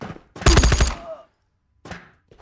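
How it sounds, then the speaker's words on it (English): Thompson SMG fire in the VR shooter Ghosts of Tabor: a loud, close burst of rapid automatic shots lasting about half a second, followed by quieter clanks and handling sounds. "You've seen this gun before. Thompson SMG."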